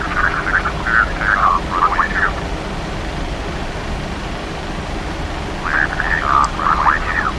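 The engines of a PMDG Boeing 737-700 in the Prepar3D flight simulator give a steady, even hum while the jet sits ready for takeoff, with short bursts of radio-like voice chatter on top.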